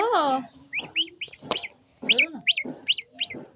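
Ducklings peeping in short high chirps while they eat, with a nearby voice speaking over the calls at the start and in between.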